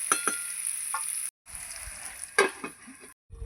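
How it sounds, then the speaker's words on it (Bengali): Potatoes and kohlrabi sizzle softly in a pan, broken by a few sharp clinks and scrapes of a utensil, with short silent gaps. "এবার আমি ভালো করে ভাজবো"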